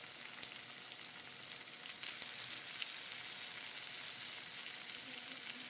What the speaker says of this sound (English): I'm going to add my chorizo into the pan